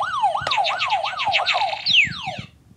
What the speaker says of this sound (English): I believe I heard your buzzer next